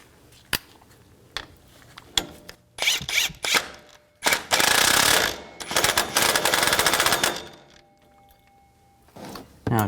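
A ratcheting wrench tightens the lower shock bolt nut on a 2002-2006 Chevy Avalanche, with close, quick clicking bursts broken by pauses and a few sharp knocks.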